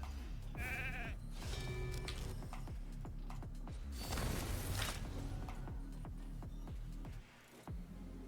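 Sheep bleat in a video game. One clear, wavering bleat stands out early over a busy bed of mechanical clicking and game sound effects, with a louder burst of noise midway.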